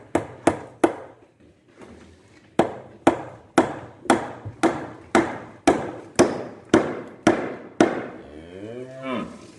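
A block hammer drives nails into a board in a barn with cattle, giving a long series of sharp, evenly spaced whacks nearby, with a short pause partway through and a cow lowing at the end.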